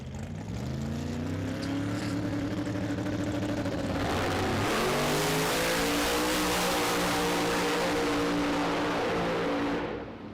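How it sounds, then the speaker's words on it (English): A Chevrolet Camaro drag car at a drag strip in Las Vegas, with an engine that won't take throttle, drones loud and steady and close by, its pitch sagging and then climbing again midway without ever pulling away. "Something wrong with the Camaro over there that was going to be in the left lane. Not taking throttle."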